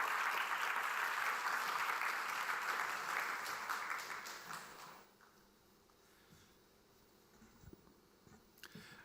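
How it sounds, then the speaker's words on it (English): Audience applause at the Seoul Defense Dialogue 2025 opening ceremony welcoming Singapore's Senior Minister of State for Defence, dense and steady, fading after about five seconds to quiet room tone with faint scattered claps. "So please welcome him with great applause."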